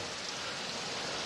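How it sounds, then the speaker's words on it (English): Steady rain hisses in a dense, even wash of patter, continuous and moderately loud with no voices. "Looking at the rain."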